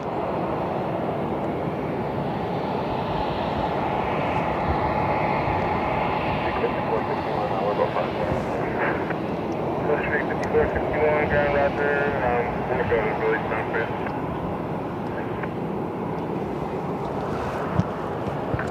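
Steady, loud roar of a jet at Cleveland airport, a continuous rushing engine drone that holds for the whole stretch, with a voice talking over it.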